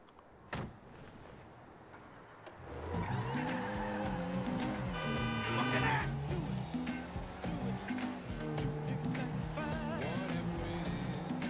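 A car driven in the video game GTA V: after a brief quiet start and a single knock, the engine starts up and revs, its pitch rising and falling through gear changes, steady and moderately loud.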